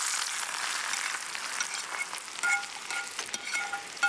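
Onion and garlic frying in oil, a steady bright sizzle with crackle and a few sharp pops near the end, close and continuous with no talking.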